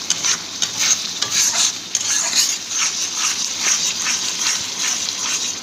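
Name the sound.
stirring jaggery sandesh mixture with a wooden paddle (taru)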